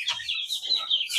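A chicken clucks close by, with short repeated calls.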